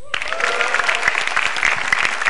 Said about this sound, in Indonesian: Yang jelas tepuk tangan buat komik-komik sebelum saya.